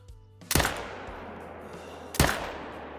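Two sharp, loud AR-308 rifle shots fired while hunting in Call of the Wild, spaced well apart, each a crisp crack with a short echoing tail over low background ambience.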